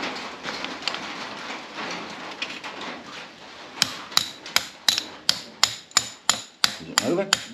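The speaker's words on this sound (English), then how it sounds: "Grab something and peck that pin out on the other side." Metal hammer blows drive a piston pin out through an extension on a Yamaha Big Bear 350 ATV engine, about a dozen sharp, evenly spaced strikes close up after a stretch of rustling workshop noise.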